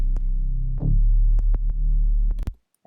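Deep sub bass synth pulsing in short, heavy low notes with a few sharp hits on top, loud and alone before cutting off abruptly.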